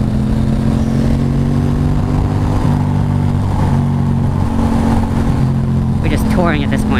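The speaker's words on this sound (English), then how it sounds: "We're just cruising, relaxing, riding our motorbikes around this gorgeous island." Motorcycles cruise along the coastal Cabot Trail on a rainy day, a loud, steady engine drone with wind rush heard from on the bike, a rider's voice briefly over it near the end.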